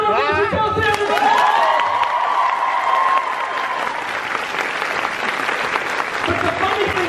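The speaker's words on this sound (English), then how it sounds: "Big round of applause for Kelsey, everybody!" Steady applause and cheering from a fan convention panel audience, loud and sustained, with whoops and voices in the crowd mixed in throughout.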